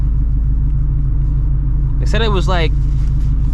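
Straight-piped Shelby GT350 cruising city streets at night, a constant deep exhaust rumble filling the cabin, with someone speaking briefly over it partway through.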